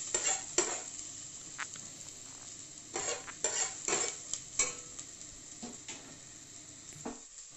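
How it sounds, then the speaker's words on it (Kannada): Chopped onions fry in oil for a traditional colocasia-leaf snack while a spoon stirs and scrapes the pan in irregular strokes over a soft, steady sizzle, close and without talk. "ಅದನ್ನು ಹಾಕಿ ಎಣ್ಣೆಯಲ್ಲಿ ಚೆನ್ನಾಗಿ ಒಮ್ಮೆ ಫ್ರೈ ಮಾಡಬೇಕು."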